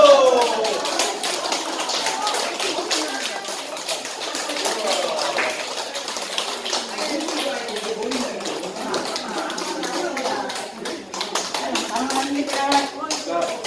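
A group of people claps in a room at a health talk about spinal stenosis, with brisk, scattered applause continuing for several seconds while voices speak over it.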